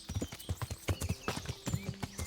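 Horse hooves clip-clop at an irregular, brisk pace in the medieval game Kingdom Come: Deliverance, close and clear, each hoofbeat a crisp knock, with faint ambient sound behind them.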